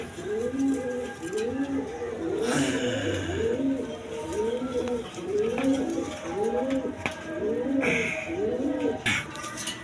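German Beauty pigeons give repeated rhythmic coos in a steady series of rising and falling calls, close and fairly soft, with someone talking over them at times.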